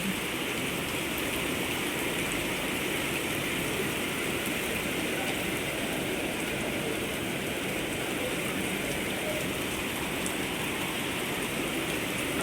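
Black-rainstorm downpour in Hong Kong pours steadily and heavily for the whole stretch, a dense unbroken hiss of rain on the street with no voices.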